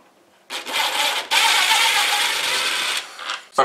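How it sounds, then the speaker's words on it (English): A screwdriver turns flathead screws loose from a hard-wired smoke detector, giving a continuous scraping, ratcheting grind with a short break, then a sustained stretch of turning that fades out near the end. "we're just going to loosen these screws. I'm going to actually take them all the way out"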